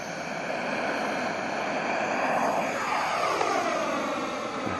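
A Freewing Yak 130 RC model jet, flown on a 6S 4500 battery with takeoff flaps set, takes off in the rain. Its high electric ducted-fan whine rises and sweeps in pitch as it passes close by, with steady wind or rain hiss underneath.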